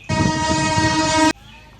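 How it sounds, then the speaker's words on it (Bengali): A single loud, sustained train horn blast sounds close by for just over a second, then cuts off sharply and leaves quiet background. "মাম্মা ট্রেন।"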